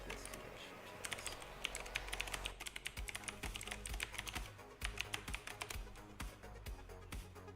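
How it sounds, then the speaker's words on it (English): A password is typed on a computer keyboard: quick, irregular bursts of close, crisp keystrokes tapping away at low volume, with no voices. "Probably fat fingered my password."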